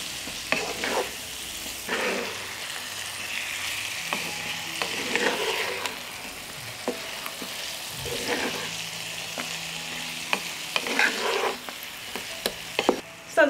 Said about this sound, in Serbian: pa ću sve ovo promešati i nastaviti još par minuta da pržim sve ovo na nižoj temperaturi.